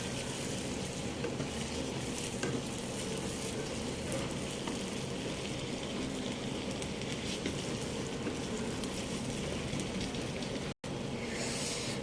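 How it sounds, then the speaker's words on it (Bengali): Garlic and ginger paste fries in a pan while being stirred together for a beef curry, giving a loud, continuous crackling sizzle close by with faint scraping, broken by one brief drop near the end. "এখন আমি একসঙ্গে নেড়ে নেব।"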